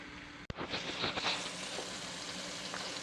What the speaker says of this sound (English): it's been frying for just a little bit